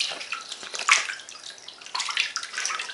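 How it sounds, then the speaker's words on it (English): A baby splashes water in a bathtub, making irregular sloshing and splashing bursts that swell and fade, close up, with no talking. "You just figured out how to splash."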